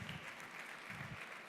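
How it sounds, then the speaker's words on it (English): Audience applause at a fireside session of a tech accelerator conference, steady dense clapping filling the short stretch at a moderate distance with no voices over it. "give a very big round of applause to Paul Bragiel while I help him to get his seat."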